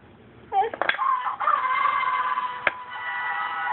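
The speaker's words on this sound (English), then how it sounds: "Oh, it sounds like a rooster." A rooster crow plays out once, a rising then sustained call, sounding like a toy or puzzle sound effect, fairly loud and close with a short click partway through.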